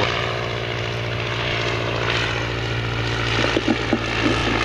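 A 1954 replica of an Edwardian aeroplane, fitted with an original 1924 engine, drones with a steady propeller hum at moderate distance, the engine note holding roughly even throughout.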